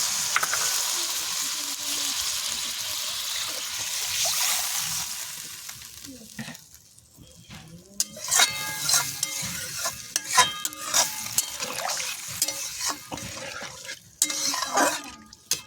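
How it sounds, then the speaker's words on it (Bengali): Curry is sautéed with a little water in a pan, a loud sizzle at first that fades, then repeated scraping and clattering strokes of a spoon stirring against the metal pan. "জলটা দিয়ে কষাবো। একটু কষানো, দিয়ে দেবো জল।"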